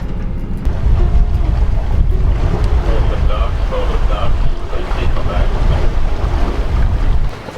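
A sailboat motors under engine at sea, leaving Cape Lookout bound for Wilmington at sunrise, with a steady low engine drone mixed with rushing wind and water noise, close and constant throughout.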